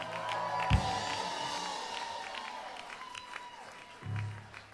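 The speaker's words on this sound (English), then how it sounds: "Give them a big round of applause." Wedding guests clap and cheer at a reception, a moderate wash of applause with scattered whoops, while a thump sounds early and a brief low tone rises near the end.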